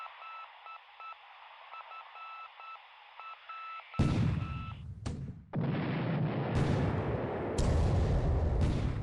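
In the War in the Pacific naval war game, a beeping radio-like tone gives way to heavy booming impacts from 5-inch naval gun hits, several dull blasts rumbling close and loud.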